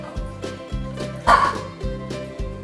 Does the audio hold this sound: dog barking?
yes